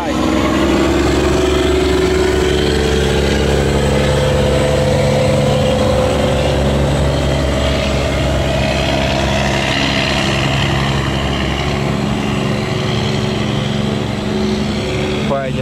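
Boat engine revving hard on a narrow canal where barges pass, a loud continuous roar with rising and falling pitch held for the full stretch, with talk underneath.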